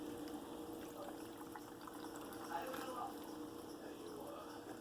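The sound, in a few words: spring water being poured into a container for vegetable juice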